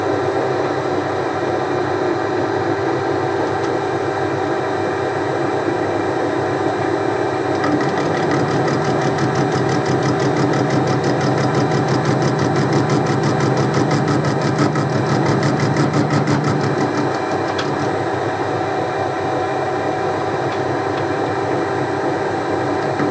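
A lathe turning down a part with light cuts runs as a steady, continuous mechanical whir and hum, with a brighter, rougher cutting texture in the middle stretch.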